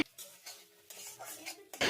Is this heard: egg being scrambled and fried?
yes